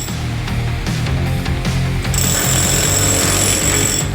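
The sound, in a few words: demolishing a wall during house remodeling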